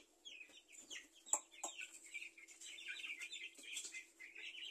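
Young Black Australorp chicks peep and cheep in a quiet brooder, with a few soft clucks and brief wing flutters, steady but faint, no talking.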